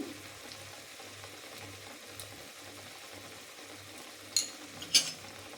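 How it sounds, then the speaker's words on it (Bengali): Ground spice paste frying in a pan as part of a Bengali papaya and shukto dish, a steady soft sizzle with a low rhythmic hum underneath and two brief sharp clinks near the end. "দিয়ে মশলাটাকে একটু ভেজে নেবো, বাটা মশলাটাকে"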